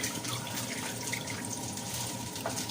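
Fresh red Swedish shrimp are washed under a running cold tap, a constant close rush of water splashing into a sink throughout, with no talk.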